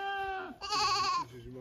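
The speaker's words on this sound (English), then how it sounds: "Goats. These are all goats." Goats bleat in Mutoko town centre in a wavering, nasal cry, one call sliding down and then a louder, longer bleat close by, with a fainter bleat trailing after.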